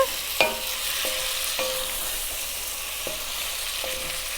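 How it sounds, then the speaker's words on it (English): Beef stew in a pot with potatoes and liquid being stirred, a few soft spoon scrapes and knocks spaced out against a steady low simmering sizzle, close and fairly quiet with no talking. "I'm going to give that a stir."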